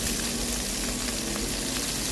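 Shrimp frying in hot oil in a home kitchen, giving a continuous close crackling sizzle with small pops throughout and no voices.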